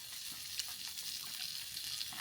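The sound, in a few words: fish frying on a tava griddle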